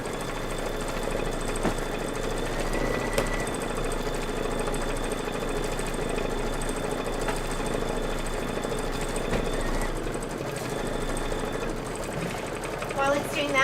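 Kimberbell embroidery sewing machine stitching two rows of Christmas trees in gray thread, a steady close mechanical whir with rapid needle rhythm running continuously throughout.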